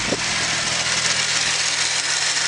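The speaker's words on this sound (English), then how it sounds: "Let's jump around here, show you the engine running." A Holden VE Commodore SV6 with the LLT 3.6-litre V6 idling steadily under an open bonnet, a close, even, continuous hum with no talking over it.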